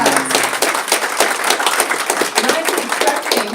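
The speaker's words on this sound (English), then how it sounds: "Round of applause." An audience applauds after a talk at a 1 Million Cups pitch event in Mankato, with dense, steady clapping from a room-sized crowd that holds at an even level for a few seconds.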